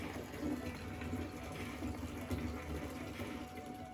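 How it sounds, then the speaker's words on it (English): Water runs steadily into a bathtub as it fills, a continuous broadband rushing and gushing from a tap with no pauses across the span. "it's about that time that I run me a bath"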